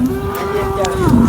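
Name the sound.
buffalo mooing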